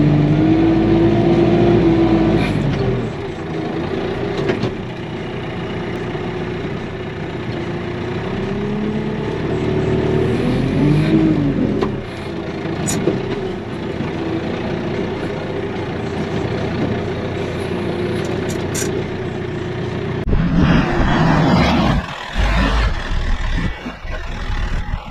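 A KIOTI RX7320 tractor engine running in four-wheel drive, a steady loud drone with shifting pitch and a radio playing faintly, then a rougher burst of engine noise near the end.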